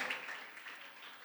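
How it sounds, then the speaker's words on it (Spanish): A church congregation claps in a short, soft burst of applause that stays steady and fairly distant throughout. "dense una ofrenda de palmas a usted y una ofrenda de palmas al Señor"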